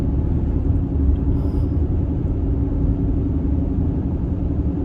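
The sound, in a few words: tire roar while driving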